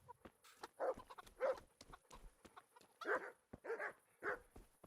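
Guard dogs bark in the video game Kingdom Come: Deliverance, sending several separate woofs at an uneven pace from a moderate distance, with faint game ambience between them.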